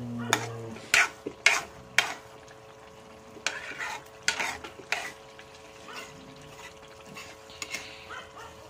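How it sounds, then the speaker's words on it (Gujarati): Fresh turmeric dish being stirred in a pan just after curd is added, with several sharp scraping clinks and soft sizzling early on, then quieter intermittent stirring. "દહીં નાખીને હલાવી"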